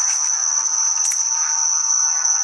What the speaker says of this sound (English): This is the sound of the campground Gateway National